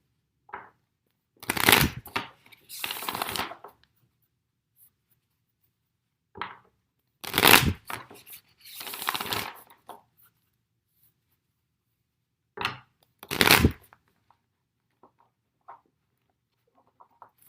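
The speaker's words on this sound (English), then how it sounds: "That was not a good shuffle. One more shuffle." Several bursts of a card deck being riffled and shuffled, crisp fluttering rattles close by, separated by pauses of quiet.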